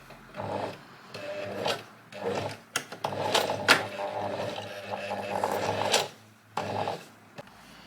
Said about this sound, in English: I'm just quickly stitching along the two uppers I just stuck together, not stitching the lining with that.